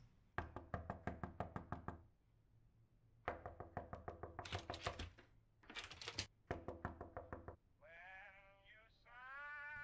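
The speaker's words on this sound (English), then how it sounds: "Who's knocking?" Rapid knocking on a door in the horror game Hazing: Night Shift comes in several sharp, rhythmic bursts with short pauses between them, followed by higher wavering tonal cries at the end.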